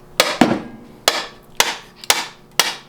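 Hammer blows on a part from a 1982 Lada, six sharp metallic strikes in an uneven rhythm, close and loud, with short ringing decays between hits.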